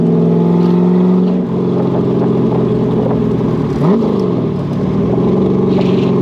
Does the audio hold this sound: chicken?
no